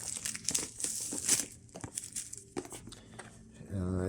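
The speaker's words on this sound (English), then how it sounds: "Take this plastic off." Plastic wrap is peeled and torn off a Fossil Gen 6 Wellness smartwatch box, a close, loud crinkling and crackling with sharp tearing bursts. It is broken up by brief pauses and ends in a soft rustle.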